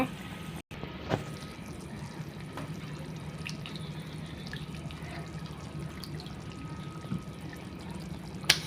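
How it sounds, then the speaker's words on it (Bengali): Meat goes into a pan of fried spices for a village-style meat khichuri, giving a steady, soft sizzling hiss with a few sharp clicks and taps throughout. "মশলা কষানো শেষ এখন মাংস দিয়ে দিব"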